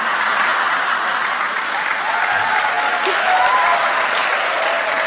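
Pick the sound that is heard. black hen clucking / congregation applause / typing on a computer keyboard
congregation applause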